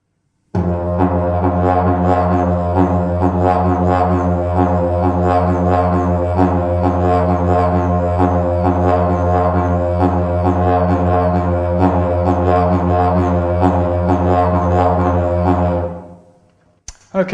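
A didgeridoo played faster, its low continuous drone pulsed by quick belly pushes and cheek slaps in a tight, even rhythm, loud and close with no voices, ending abruptly after about sixteen seconds.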